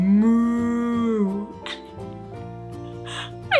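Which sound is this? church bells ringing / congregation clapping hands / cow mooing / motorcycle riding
cow mooing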